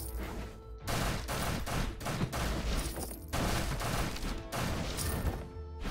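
Rapid gunfire rattles through a Nightmare The Lunatic fight, loud, dense bursts of shots in quick succession with brief gaps between volleys.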